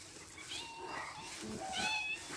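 Cats meowing outdoors as people return home from a fishing trip, a few soft, fairly close calls rising over light background noise.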